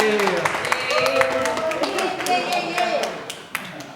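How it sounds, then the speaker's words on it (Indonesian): An audience at a student Q&A session claps for the student council vice president, a busy patter of hands under ongoing chatter and voices, moderately loud and close. "Tepuk tangan dulu dong buat wakil BEM kita."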